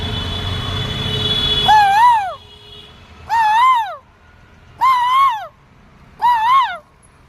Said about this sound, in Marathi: तेव्हा पक्षी पण आता ओरडायला लागले